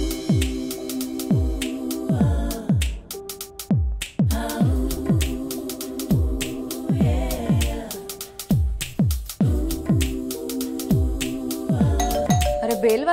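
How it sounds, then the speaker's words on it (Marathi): A household doorbell rings again and again, each bright ding-dong chime following closely on the last and filling the room loudly, with faint voices beneath. "अरे बेल वाजते कधीची."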